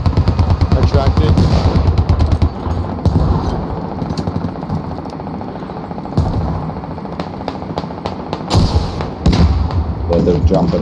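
Rapid bursts of automatic gunfire and heavy shots in the military shooter Squad, loud and close, firing in dense volleys with short pauses, with voices talking over the battle.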